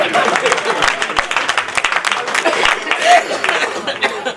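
Audience applause at a Hindi comedy poetry gathering, dense steady clapping from a large crowd with scattered chuckles, sustained and loud throughout.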